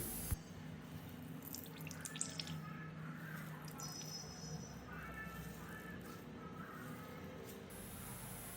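Fresh potato juice is squeezed through a cotton cloth, giving soft drips and trickles of liquid. Birds call intermittently in the background and nobody speaks.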